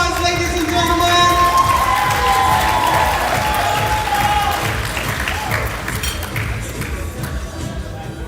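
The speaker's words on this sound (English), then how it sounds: "Another round of applause, ladies and gentlemen." A pageant audience at a 50th birthday women's empowerment event breaks into loud, sustained applause and cheering, a dense crowd roar that stays strong and slowly eases off while music tones ring underneath.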